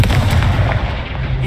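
The Confringo fire spell from the video game Hogwarts Legacy bursts in a loud, close explosive blast with a booming low rumble, while a player's voice sits faintly underneath.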